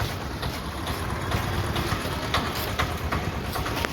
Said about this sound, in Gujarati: અમારી ટ્રેન આવી ગઈ છે